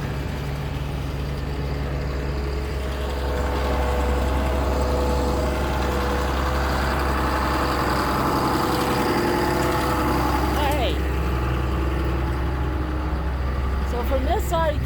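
A tractor engine idles steadily on a farm, a deep constant diesel rumble close by and loud, with a brief rise in level partway through and some faint squeaks near the end.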